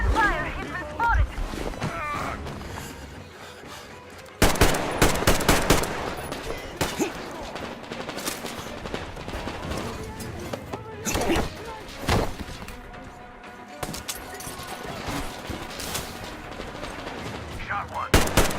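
Heavy gunfire in Metro Exodus, sharp shots and rapid automatic bursts cracking repeatedly and loudly, with a sudden surge of dense fire partway through and voices talking over the fighting.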